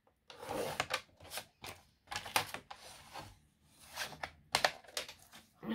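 Card stock being cut during papercraft, a series of close, scratchy rasping strokes in irregular bursts separated by short pauses.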